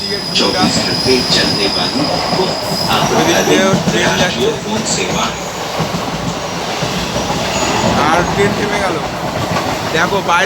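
A passenger train rolls loudly with sustained metallic wheel squeal and rumbling carriages, heard from on board as it slows to a stop, with voices faintly mixed in.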